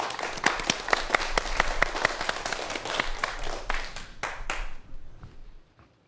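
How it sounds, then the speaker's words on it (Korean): An audience at a public science lecture about space gives a round of applause, dense and close clapping that holds steady and then thins out into a few last claps before falling silent. "다시 한번 큰 박수로 청해 보도록 하겠습니다."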